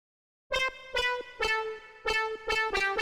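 A plucky lead synth patch made in Serum 2 plays a bright, bouncy melodic phrase of short plucked notes with sharp attacks and quick decays, clean and alone without any voices.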